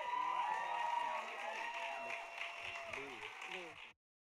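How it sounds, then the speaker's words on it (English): Crowd applause mixed with cheering and whoops at a live music and conversation event featuring a sax player, steady and full for about four seconds before cutting off abruptly. "Let's give them both another round of applause"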